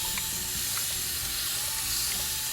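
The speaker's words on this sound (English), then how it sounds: "now I just want to kind of spray off some of those leaves" Spray bottle misting the leaves of plants inside a houseplant terrarium, a steady close hiss of fine spray that runs through the whole short stretch with no pauses.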